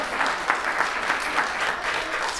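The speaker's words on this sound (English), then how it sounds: "Tepid applause for that announcement." A studio audience gives a short round of tepid applause: scattered clapping at moderate loudness that carries on evenly for a couple of seconds with no cheering.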